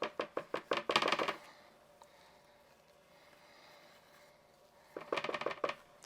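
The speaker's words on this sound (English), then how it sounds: "I just like to scrape around the sides there" A spatula scrapes around the sides of a mixing bowl of lemon lime loaf cake batter, making quick, rhythmic, scratchy strokes in two short clusters with a quiet pause between.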